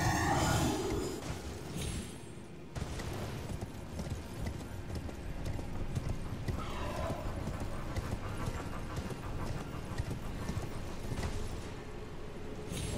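Horse hooves galloping in the video game Elden Ring, a steady run of rapid clip-clop beats over game ambience with a brief whinny, heard alone at a moderate level.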